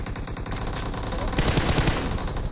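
Rapid automatic gunfire from the BGMI mobile battle royale game, a dense continuous burst of shots filling the whole stretch and growing heavier partway through, loud with no speech.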